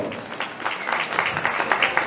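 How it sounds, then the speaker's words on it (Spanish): Wedding guests applauding at a reception in Jauja, clapping that builds and grows brisker, heard close and moderately loud. "con el cual recepcionamos con los aplausos"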